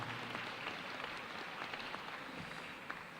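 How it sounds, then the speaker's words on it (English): Audience applause at a school awards assembly, a steady wash of clapping from a crowd filling the room at moderate, even volume throughout. "How about a round of applause for those guys?"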